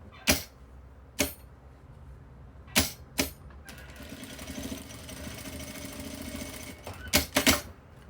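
A sewing machine runs a 1 cm seam along fabric, a steady mid-level mechanical whir from roughly 3.7 to 6.8 seconds. Sharp clicks and taps from handling come before it and after it.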